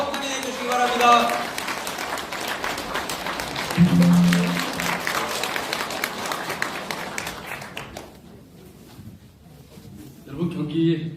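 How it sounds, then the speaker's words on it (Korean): An audience at a Gwanak constituency report meeting gives sustained applause welcoming the Gyeonggi governor, with loud, dense clapping that fades away as a voice speaks over it near the start and again at the end. "큰 박수로 환영해 주시기 바랍니다"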